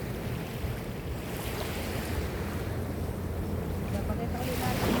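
Steady rushing ocean surf washes in continuously, mixed with wind buffeting the microphone, with no clear voices.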